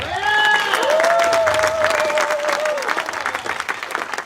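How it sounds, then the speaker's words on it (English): Pitch night audience giving a round of applause to the speakers, a full, sustained crowd clapping with a few whoops and a tonal whistle-like sound above it, tapering near the end. "let's give a round of applause to everybody"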